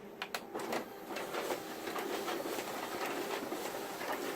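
A Konica Minolta copier feeds and copies four originals through its document feeder, giving a steady mechanical whir with a rapid series of clicks and sheet-feed clatter, close and continuous throughout.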